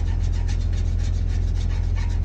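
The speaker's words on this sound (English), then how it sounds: "I started getting a file and filing down" A metal hand file rasps steadily across the hub surface of an Acura TL Type-S front brake, the continuous close scraping strokes running without pause and no voices.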